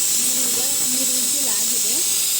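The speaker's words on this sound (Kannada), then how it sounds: "ಒಂದು 3 ವಿಸಿಲ್ ಕೂಗಿಸ್ಕೊಂಡ್ಬಿಡ್ತೀನಿ ಮೊದಲು." A pressure cooker with village-style egg biryani releases steam in a loud, continuous hiss that fills the whole moment, while a voice talks faintly underneath.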